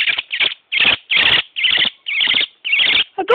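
A bird just caught in hand gives a series of about eight harsh, raspy squawking calls in a steady rhythm, loud and close, with brief gaps between each call.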